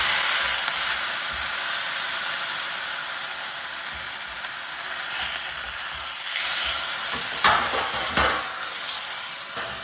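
Pork sizzles loudly and steadily on a high-heat cooker just after being flipped, a continuous hiss with a few sharper crackles and spatula scrapes toward the end.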